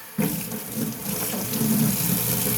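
Tap water runs steadily into a sink while razor parts, an adapter and a blade, are washed under it, a close, constant splashing hiss that starts abruptly and keeps going.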